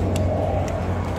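Cars pass along a city street, a steady low road rumble with a couple of brief hissing swishes as vehicles go by, close and moderately loud.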